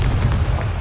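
A Confringo blasting spell detonates in the video game Hogwarts Legacy: a short, heavy, booming explosion with deep rumbling low end and a few crackling pops, heard alone.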